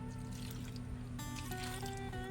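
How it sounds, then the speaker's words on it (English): Milk poured into a pan of melted butter while cooking a holiday dinner in an RV kitchen, a steady close trickle and dribble of liquid running for a couple of seconds with a faint sizzle beneath. "I'm gonna add a little milk and start mixing it."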